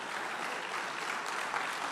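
Church congregation applauding together during a Spanish-language service, a steady, dense wash of hand claps from a crowd filling the whole space, even in level throughout.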